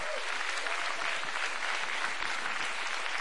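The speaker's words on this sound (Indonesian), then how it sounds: "Tepuk tangan untuk bangsa Indonesia." Audience applause at an Indonesian speech on democracy, a steady dense wash of clapping held at even loudness throughout with no voices over it.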